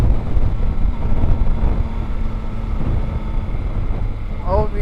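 Steady, loud wind buffeting roars across a rider's helmet aboard a Yamaha Tracer 9 GT motorcycle at speed, a continuous low rumble with the engine blended underneath and no talking.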